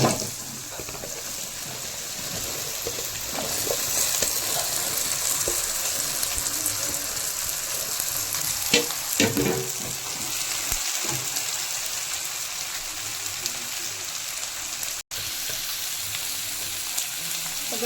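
Onions fry in a pan for a puri curry, a constant close sizzle and crackle running throughout, with occasional stirring clatter and a short splash of water partway through, no talking.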